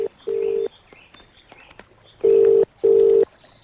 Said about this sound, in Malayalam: ചേട്ടാ, ഫോൺ.